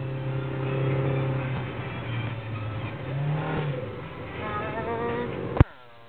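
The engine of a manual-transmission car hums steadily and rises in pitch as it is revved during a driving lesson, close and continuous, ending with a sharp click and then quiet.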